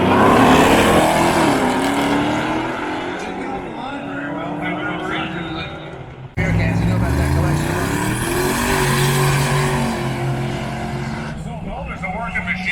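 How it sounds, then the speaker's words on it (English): Cars in a side-by-side drag race at a Dodge-powered Roadkill Nights event in 2024, engines roaring loud and sustained as they rise in pitch and shift, with a commentator talking over them. "A great side-by-side drag race."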